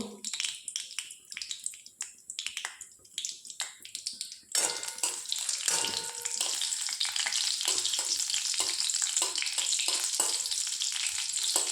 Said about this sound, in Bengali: লঙ্কা জিরেটা একটু ভেজে নেব।